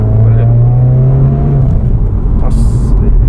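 A Subaru WRX with a CVT sports-car suspension rolling over rough, badly paved streets, with a loud, close cabin rumble of engine and road noise and an engine drone that fades partway through.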